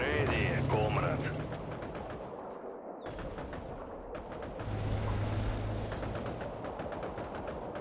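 Tank cannons and gunfire boom in a World War II real-time strategy game, with heavy blasts and rattling shots over rumbling battle noise, while in-game voices speak over the start and middle of the fighting.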